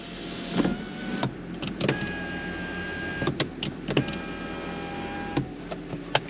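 Electric sunroof motor on a BMW M340i Touring, a steady mechanical hum with faint tonal whines, punctuated by several sharp clicks and clunks as the panel moves.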